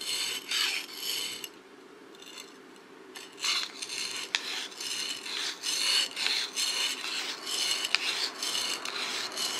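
A sashimi knife stroked across a whetstone, a series of rhythmic rasping scrapes, each a short gritty swipe with brief pauses between, close and clear with no talking.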